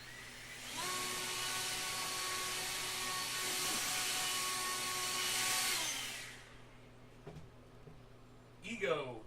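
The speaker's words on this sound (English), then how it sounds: "EGO, ego blower." An EGO battery leaf blower runs with a loud, steady high-pitched whine for several seconds before cutting off, leaving quieter room noise and a brief clatter at the end.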